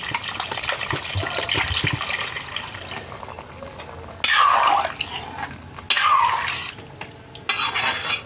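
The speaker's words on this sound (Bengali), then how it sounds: "জলটা দিয়ে দেবো, আলু কষানো হয়ে গেছে।" Water is poured into a pot of fried potatoes for a thin fish curry, giving two loud gushing splashes alongside stirring and scraping in the pot, with no talk.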